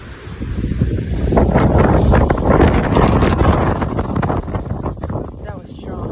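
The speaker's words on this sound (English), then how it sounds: "We're predicted to get very, very strong wind gusts." Strong wind gusts in Utah buffet the microphone in a loud, continuous low roar that swells and eases over several seconds, with rustling in the background.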